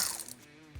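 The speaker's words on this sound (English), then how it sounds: "And then I'm going to use my ratchet, right? 10mm, lefty loosey, righty tighty." A 10mm ratchet loosening a bolt on a car engine bay near a delta P pressure sensor: a short, faint mechanical clicking burst, followed by a soft low knock near the end.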